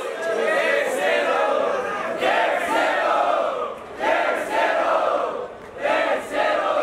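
A crowd at a Batalha da Leste rap battle erupts in loud cheering and shouting, several surging waves of yells and whoops rising and falling over a few seconds, close and raucous.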